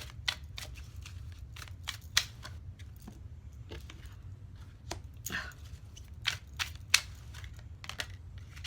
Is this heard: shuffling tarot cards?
yes